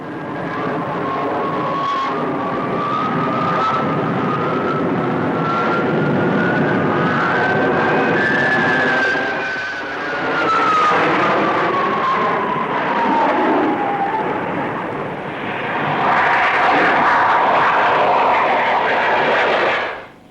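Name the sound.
Royal Navy fighter bombers flying in formation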